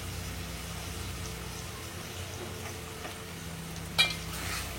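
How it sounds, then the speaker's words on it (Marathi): Hot tempering (phodni) sizzles and crackles steadily in a pan for a Malvani chicken biryani, a soft, continuous fry with a brief louder pop near the end and no talk. "तर आता हे फोडणे घातल्या ना तर मस्तच वाटतं अगदी."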